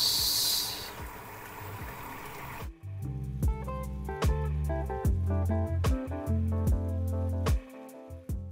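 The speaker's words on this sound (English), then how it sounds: "I'm still just going to let my spinazzi boil for some time" Spinach with palm oil boiling in a pot gives off a loud, close steamy hiss for the first few seconds, then cuts out abruptly as plucked, rhythmic music takes over.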